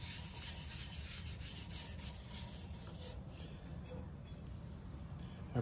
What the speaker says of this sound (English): let's get some sanding sealer on this